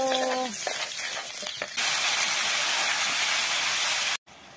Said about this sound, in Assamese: এতিয়া এইফালে মগু দালি দি দিছো অলপমান